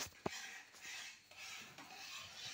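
Hand mixing of boiled palm pulp into batter in a bowl, with soft wet squelching and rubbing scrapes, one sharp knock against the bowl near the start, quiet and close.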